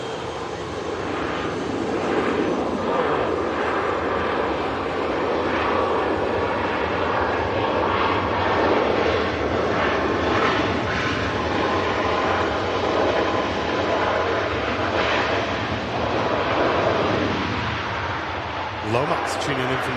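EasyJet Europe airliner visiting Manchester airport, its engine roar a continuous broad rumble heard from a distance, steady for about twenty seconds with a voice talking over it.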